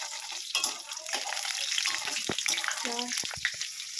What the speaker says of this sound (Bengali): এবার এটাকে একটু নাড়াতে হবে যতক্ষণ পর্যন্ত এটা লাল লাল হয়ে যাবে